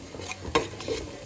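Spiced egg biryani masala fries in a pan with a steady sizzle while a spoon stirs it, giving several quick metallic scrapes and clinks against the vessel.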